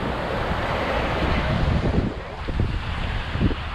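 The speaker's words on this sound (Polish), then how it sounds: "dzisiaj są fale, wczoraj było takie spokojne morze" Sea waves wash onto a beach at Alicante, Spain, a steady broadband rush of surf with wind buffeting the microphone, swelling slightly in a few soft surges, close and continuous.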